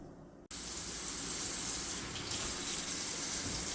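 Kitchen tap water gushing steadily into a sink while cleaned squid is rinsed, a close, continuous splashing flow that starts abruptly and keeps going.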